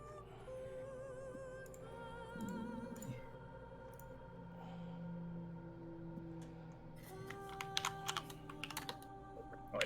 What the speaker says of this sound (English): Oh, I think you can hear my keyboard.